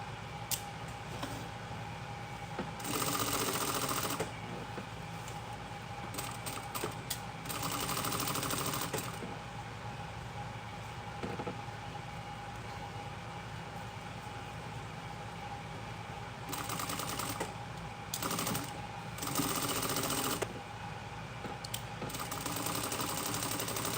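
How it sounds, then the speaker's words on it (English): Sewing machine stitching fabric for a garment's armholes and neckline, running in several bursts of rapid whirring stitches separated by quieter pauses, close and fairly soft with no talking. "Okay, so now we're gonna go ahead and sew."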